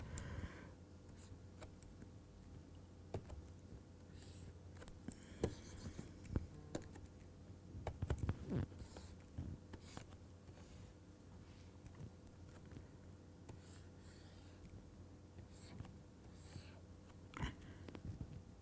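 A hand-drawn diagram goes onto the board during a geometry lecture, with faint, scattered scratchy strokes and taps under a quiet room hum and no speech.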